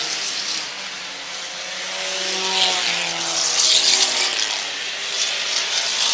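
Race cars roar around Airborne Speedway in Plattsburgh, New York, during an end-of-season enduro, with a broad, steady engine wash and a few rising and falling tones as cars pass at middle distance.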